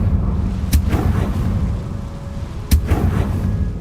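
A Confringo fire spell in Hogwarts Legacy detonates twice in short, sharp bursts about two seconds apart, each with a quick booming tail over a steady low rumble of game ambience.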